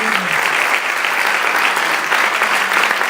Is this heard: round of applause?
yes